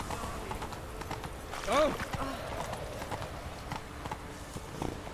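Horse hooves clip-clop at a run in The Witcher 3, a steady rhythmic beat under in-game ambience with a brief exclamation from a voice.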